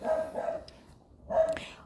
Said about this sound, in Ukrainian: такі розговорчиві у нас сусідські собаки дуже-дуже люблять прийняти участь скрізь